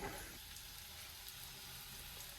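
Chicken fry sizzles in a pan, a short, steady hiss that is fairly loud and close and carries on without a break.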